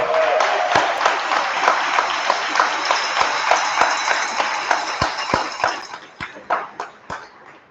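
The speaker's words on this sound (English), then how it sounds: "everybody, let's give them a round of applause." A crowd at a political campaign launch party applauds with loud, close clapping that thins out toward the end, leaving a few individual claps and some cheering.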